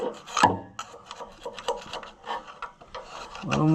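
Scraping on a part of an Oliver 1655 tractor diesel engine makes repeated short, rasping strokes close by, with a few louder knocks and some faint voices.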